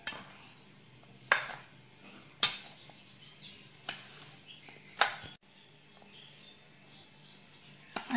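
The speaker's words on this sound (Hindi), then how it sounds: "अभी सारे मसालों को और सारी वेजिटेबल्स को और तेल को हम अच्छे से मिक्स कर लेते हैं।" Vegetables, spices and oil being mixed for a pickle, with a spoon striking the bowl in sharp metallic clinks every second or so, close, between quieter scraping.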